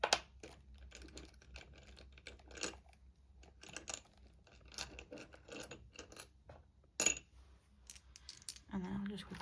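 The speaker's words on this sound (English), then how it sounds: "Let me get my 2 6-sided dice." Two six-sided dice rattle and tumble across a hard surface in a quiet room, giving a string of small clicky clatters of varying loudness.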